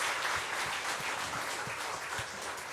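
A church congregation at a Sunday service claps together in a steady, moderately distant round of applause lasting a few seconds, with no one speaking over it.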